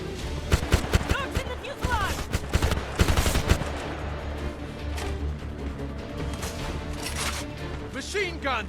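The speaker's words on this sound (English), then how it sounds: "Machine gun, second floor window." Machine gun fire in the video game Homefront, dense bursts of rapid shots early on, then a noisier stretch of combat sound with a voice talking over it.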